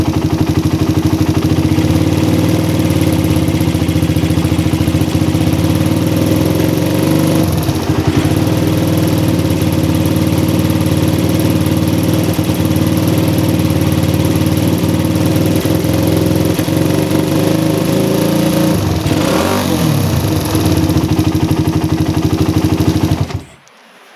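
A carbureted engine fitted with an oversized nozzle idles loudly at low RPM, its close, steady rumble stuttering and uneven throughout before it cuts out at the end.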